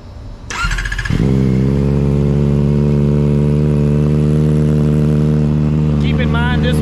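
A 2023 Kawasaki ZX4RR fitted with a Graves slip-on exhaust, with the catalytic converter still in place, fires up after a brief crank and runs loud and close with a steady, buzzy engine note.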